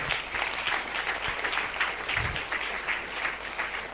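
A congregation applauds at a church assembly, steady dense clapping from many people throughout, moderately loud and continuous without a break.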